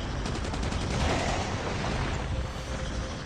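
Dense, rapid gunfire from the zombie mode of the mobile shooter game Call of Duty: Mobile, a continuous loud burst of shots with no voices.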